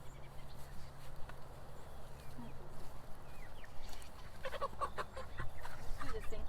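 Meat chickens cluck and murmur in a farm pen while being moved, a steady chorus of soft fowl calls close by, with brief louder clucks near the end and faint voices in the background.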